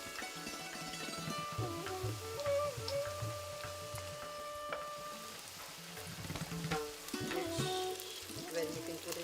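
Ginger garlic paste frying in hot oil, a steady close sizzle with stirring scrapes, heard over background music.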